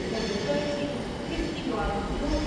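Class 323 electric train at Manchester Piccadilly station, a steady low rumble of the train with faint squeals and station ambience running throughout, no clear talk.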